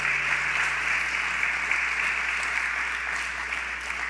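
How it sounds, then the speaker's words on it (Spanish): Church congregation applauding during a service, a steady, even wash of clapping that holds at a constant level throughout, with no talk over it. "Dale un fuerte aplauso a Dios,"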